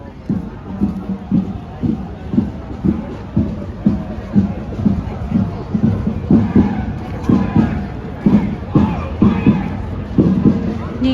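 Thai football fans cheer at Rajamangala Stadium before the ASEAN Cup 2024 final second leg against Vietnam. Steady rhythmic drum thumps drive loud crowd chanting and babble, with voices mixed in throughout.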